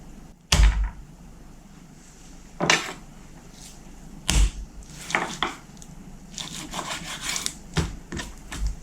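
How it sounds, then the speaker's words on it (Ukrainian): A knife cutting pork belly or salo into strips on a board, with several sharp, separate chopping knocks spread irregularly among quieter scraping and rubbing, close by and with no talk. "Нарізаємо під черевок на такі смужечки"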